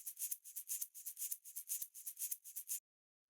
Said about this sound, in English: Next thing we have here is this first shaker